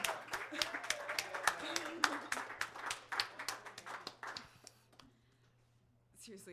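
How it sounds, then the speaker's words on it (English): Audience applause at an open mic night, a dense burst of clapping with cheering voices mixed in, dying away before a speaker's voice returns. "Give her more applause, seriously."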